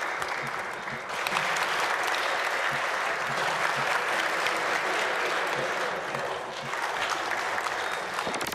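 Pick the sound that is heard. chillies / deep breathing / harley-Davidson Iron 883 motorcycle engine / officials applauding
officials applauding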